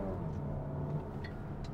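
A Volkswagen Tiguan R-Line pulls away in first gear, its engine giving a brief, even low rumble that holds steady without any voices.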